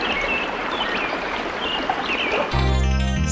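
A river stream rushes in a dense, steady wash of water. Near the end it gives way abruptly to a louder tonal, droning sound.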